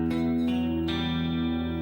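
An electric guitar played through a Boss chorus pedal, three picked notes ringing out in turn with a sustained, shimmering tone, close and clear.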